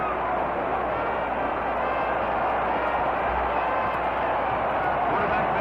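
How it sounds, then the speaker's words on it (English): Crowd at the 1954 Grey Cup football game between Montreal and Edmonton roars in a dense, continuous wall of cheering on an old television broadcast, with a commentator speaking over it. "The crowd is going crazy."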